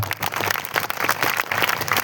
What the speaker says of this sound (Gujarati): આખી ટીમને એકવાર જોરદાર તાળીથી વધાવો